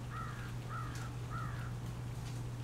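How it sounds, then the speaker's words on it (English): Three crows cawing in a short evenly spaced series, moderately distant over a steady low hum, with no voices. "The crows agree."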